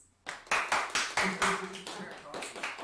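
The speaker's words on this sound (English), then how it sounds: "Clap your hands." A congregation at a Hebrew-roots worship service claps hands together in a steady rhythm, a run of sharp, evenly spaced claps at moderate volume, with voices sounding faintly underneath.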